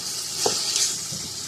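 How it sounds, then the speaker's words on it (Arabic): Harira soup ingredients frying in a pot, giving a steady high sizzle with a few soft stirring scrapes, close and moderately loud, with no voices. "حتى نقليو الحريره باش تقلى مزيان"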